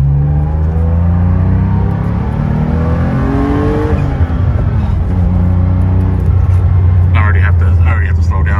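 A 1979 Porsche 930 Turbo pulls hard in first gear, its engine note rising steadily in pitch and then dropping as the gear runs out, loud and close throughout, with a person talking over it.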